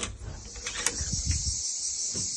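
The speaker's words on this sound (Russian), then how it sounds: "послушаем немножко цикады." Cicadas chirp in a garden in Cyprus, a steady high buzzing drone that holds throughout at a moderate distance, with faint low rustling beneath.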